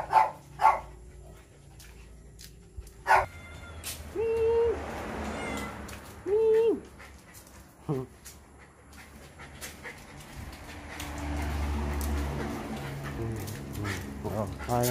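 A cat meows a few times, close and clear, while a dog pants and gives a short bark nearby, with people talking over parts of it.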